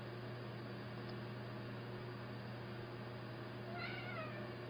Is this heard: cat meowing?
yes